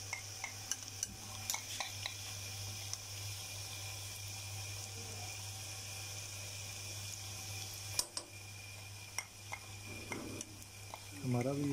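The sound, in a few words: onion and garlic frying for mutton karahi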